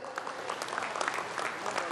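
Audience clapping at a large outdoor BJP political rally in Namsai, Arunachal Pradesh, a fairly faint, dense patter of many hands over two seconds.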